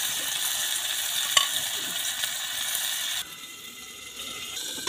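Prawn paturi wrapped in banana leaf frying in a little oil in a wok, a steady close sizzle that drops quieter near the end, with no talking.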